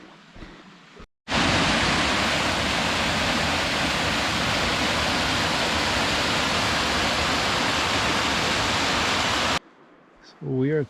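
Rushing creek water beside a rocky hiking trail in the Dolly Sods Wilderness, a loud, steady broadband hiss that starts abruptly and fills most of the stretch, with brief quieter sections at each end.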